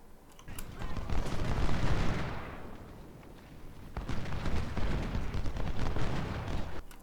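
Cannon artillery booms in the Ultimate General Civil War game during the Battle of Stones River, heavy rumbling blasts and rolling gunfire swelling and fading in two loud waves, with a voice talking over it.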